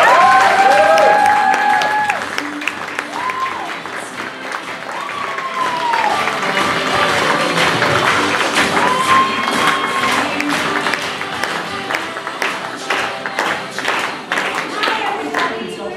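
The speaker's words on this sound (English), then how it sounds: "big, big, big round of applause." Crowd at an improv comedy show applauds a musical improv class, with loud sustained clapping, whoops and cheers. The burst peaks at the start, then settles into steady applause for the rest, with scattered shouts throughout.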